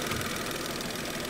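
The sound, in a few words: car engine idling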